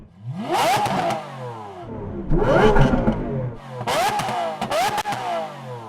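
Toyota GR Yaris fitted with an aftermarket Gentani exhaust, revved hard several times in bursts, loud and close, with rising and falling engine tones and brief gaps between blips.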